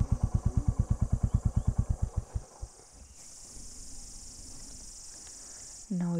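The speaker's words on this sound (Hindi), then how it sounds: "the insects are making noise." A motorcycle engine thumps in rapid regular pulses near Kaas village, then shuts off, leaving steady high insect chirping in the open air, with a voice briefly at the end.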